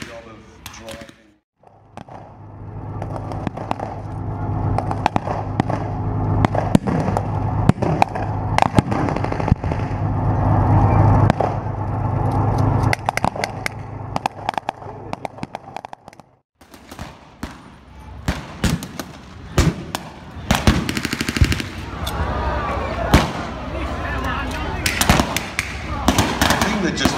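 A prop tank model blows up at a military battle re-enactment, amid dense crackling bursts of blank gunfire and explosive pops, loud and outdoors, with voices talking through much of it.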